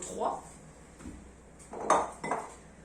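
Guy Demarle round containers and lids handled on a surface, a few soft plastic knocks and clinks spaced apart, fairly quiet, under someone speaking.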